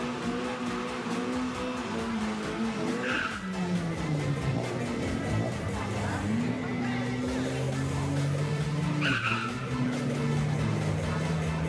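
A drag racing car does a tire burnout at a drag strip event in Chonburi. Its engine roars and drones loudly and continuously while the tires squeal, the pitch rising and falling, and faint crowd noise sits underneath.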